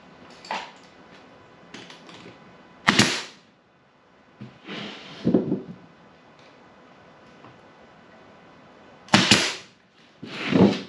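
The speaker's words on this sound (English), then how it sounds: "Glue this one on and staple it." A staple gun fires into a wooden swarm trap, giving several sharp, close snaps spaced irregularly among quieter handling noises, with no talk.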